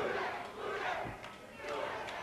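A wrestling crowd at a Mid South Wrestling TV match chants in a loud, rhythmic two-beat call that repeats across the clip, with a dense arena roar sustained underneath.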